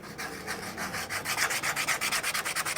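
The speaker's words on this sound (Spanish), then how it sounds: "aquí vamos a empezar con el proceso de lijado." A wooden Day of the Dead mask being hand sanded in a Xantolo mask workshop in Veracruz: steady, rhythmic, close-up rasping strokes that grow more regular and pulsing toward the end, with no voices.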